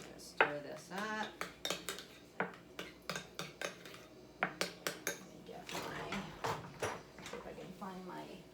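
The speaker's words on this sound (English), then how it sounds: "I'm gonna stir this up." A utensil clinks and scrapes rapidly against a bowl while a dip mixture with minced onion is stirred, giving a busy, close, rhythmic clatter that runs alongside speech.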